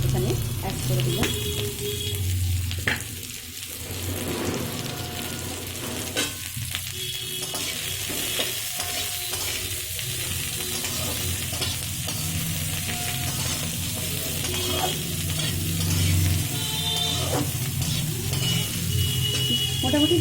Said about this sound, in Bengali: এবার যে পেঁয়াজ কুচি রেখেছিলাম সেই পেঁয়াজ কুচিগুলো একটু এখানে অ্যাড করে দিলাম।